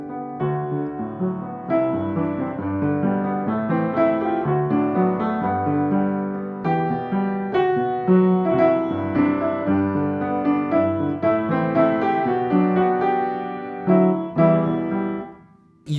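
Solo piano playing the Kiki's Delivery Service main theme with an altered melody over the original accompaniment, a flowing, moderately loud performance of steady chords and runs, unaccompanied by voices, ending with a brief release.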